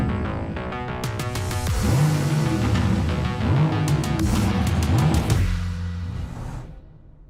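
A Mercedes-AMG concept car engine revs with rising and falling pitch sweeps, loud and close, under dense music-like layering before fading out near the end.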